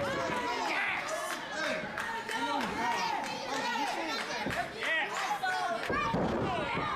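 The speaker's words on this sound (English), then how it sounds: "a brutal maneuver as he slams the skull of Landon Crews down on the mat" Wrestler slammed down onto a wrestling ring mat at a live pro wrestling event, heavy thuds landing amid loud, continuous crowd chatter and shouting.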